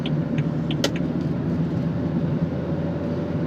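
A car drives along with a steady, low interior road and engine hum, and a brief tick sounds once partway through.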